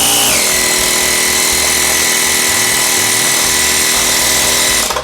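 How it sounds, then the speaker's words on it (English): A jump starter with a built-in air compressor runs loudly and steadily up close, a constant motor whine and buzz that shifts pitch at the start and cuts off at the end. "So you want to go ahead and press OK to get the compressor to start working."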